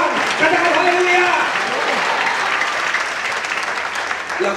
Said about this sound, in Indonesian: Berikan tepuk tangan dan sertai Tuhan